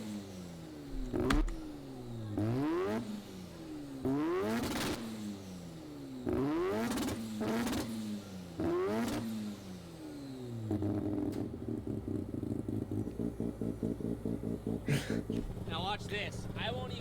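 Mazda RX-7 rotary engines rev repeatedly in sharp rising and falling bursts, then settle into a fast, choppy brapping idle, loud and close, with people talking over the engine.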